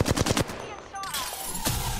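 Gunfire aimed at the player in Apex Legends: a rapid burst of automatic shots, then a whooshing pause and a few more hits, loud and close, with game voice lines nearby.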